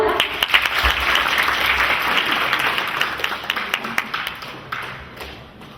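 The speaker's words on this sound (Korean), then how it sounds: "여러분 박수 한번 보내주십시오" An audience claps for a soldier's father at a literary-sharing event held with armed forces service members, a dense burst of hand claps with a few sharper individual taps, steady and fairly close, tapering slightly toward the end.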